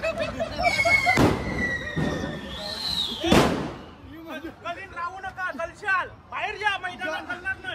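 Firecrackers burst at a village festival: three sharp, loud blasts with a rising whistle in the first few seconds, followed by people's voices and excited chatter.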